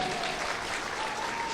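Steady applause from an audience at a spiritual discourse, a dense even wash of clapping held at moderate level throughout without any pause.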